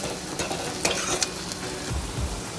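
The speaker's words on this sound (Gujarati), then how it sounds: "હું આ જલ્દી આ કાંદા તળી દઉં" Onions fry in a pan with a steady sizzle, broken by a few sharp scraping stirs and some low clunks near the end.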